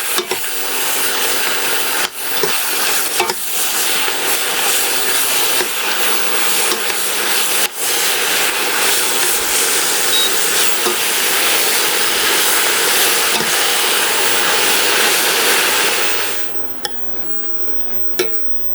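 Vegetables with tender green leaves sizzling in a hot pan with salt after being flipped, a dense, loud, steady hiss that runs without break for about sixteen seconds, then drops away abruptly with a couple of faint clinks.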